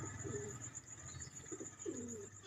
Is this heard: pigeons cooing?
yes